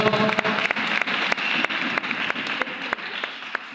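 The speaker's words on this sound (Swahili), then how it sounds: "Jipigieni makofi siku ya leo" A church youth camp congregation applauds with loud, dense clapping, steady and sustained throughout, with sharp individual claps standing out in the crowd.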